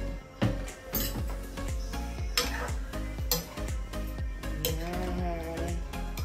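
Curry is stirred in a pot with a utensil, giving repeated close metallic scrapes and clinks in an uneven rhythm, with no speech.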